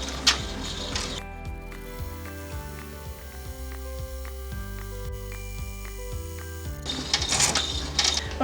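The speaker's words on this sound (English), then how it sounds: "now that we're done with the final zigzag stitching" An embroidery machine runs a final zigzag tack-down stitch on an in-the-hoop book buddy project: rapid, rhythmic mechanical clatter with a pulsing motor hum and repeating needle strikes, close and steady, followed by brief louder rustling.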